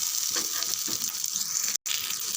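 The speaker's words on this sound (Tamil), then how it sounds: "வெங்காயம் பாதி அளவுக்கு வதங்கினா போதும்" Onions with a couple of sprigs of curry leaves sauté in a pan for an onion and peanut chutney, giving a continuous close sizzle that cuts out for a moment near the end.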